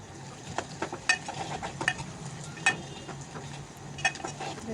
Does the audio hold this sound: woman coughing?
no